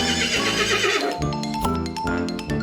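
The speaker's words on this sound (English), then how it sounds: "It's a horse." A horse neighs with a long, shaky whinny, loud and close, over a backdrop of music.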